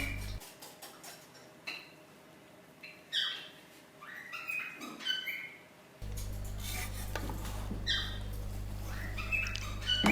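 Chicken pulao rice with mint leaves is stirred in a pot, making soft intermittent scraping, rubbing and light ticking against the metal, with a steady background hum joining partway through.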